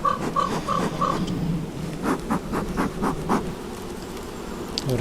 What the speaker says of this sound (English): Definitely good healthy population of bees.